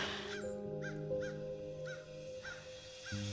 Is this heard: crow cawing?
yes